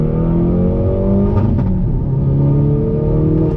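A Hyundai Veloster N hot hatch accelerates hard on throttle, its engine a loud, steady droning rumble with rising harmonic tones throughout, close and continuous, no speech.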